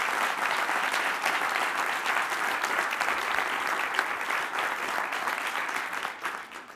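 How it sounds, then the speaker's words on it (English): A demo day audience at the Paley Center claps in a full, steady round of applause, a dense roar of many hands close by that holds for several seconds and then tapers off. "Let's please give them a round of applause."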